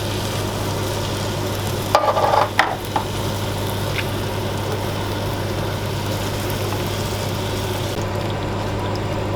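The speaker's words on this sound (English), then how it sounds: "Give it a good mix." Beans are stirred into spiced onions in a hot pan. A steady sizzle runs throughout, broken early by a few brief scraping stirs.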